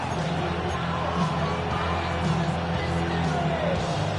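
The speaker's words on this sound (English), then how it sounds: "This crowd into it now as we get to third down." A football stadium crowd roars steadily before a third-down play, a dense and continuous wash of cheering that stays at an even level under a commentator's voice.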